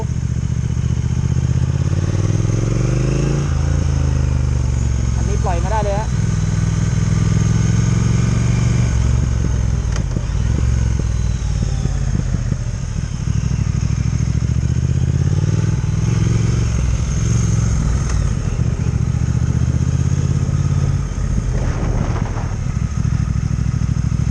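A Triumph Speed Twin motorcycle engine runs loud and close while riding, its low throb rising and falling through gear changes and revs, with clattering mechanical noise over a steady wind-like roar for the whole stretch.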